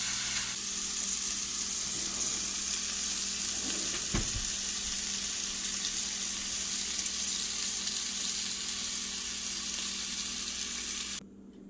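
Shrimp sizzles steadily in a hot pan, a loud continuous hiss of frying with one brief knock near the middle, stopping abruptly at the end.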